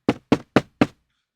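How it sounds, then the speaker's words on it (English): Four quick knocks on an apartment door, evenly spaced and sharp, close and clear with silence afterward and no voices. "She knocked on the door."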